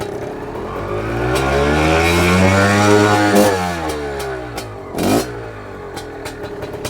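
Fantic two-stroke twin-shock trials motorcycle climbing a hill in first gear, its engine note rising and holding loud and near, then dropping, followed by a short burst and clattering off-throttle pops.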